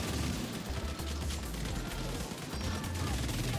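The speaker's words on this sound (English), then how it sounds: "I'm getting shot right now" Rapid bursts of gunfire in The Division 2 video game, dense and continuous over a rumbling battle background, close and loud.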